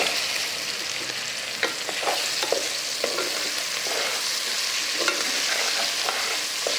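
Onion, tomato, beans, broad beans, carrot and drumstick for kootanchoru sauté in a pan under a steady close hiss of frying oil, with soft scrapes and stirs of a spoon breaking through every so often.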